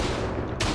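Gunfire from a Russian rifle in the World War I shooter Tannenberg, a dense wash of battle noise with a sharp loud shot cracking near the end.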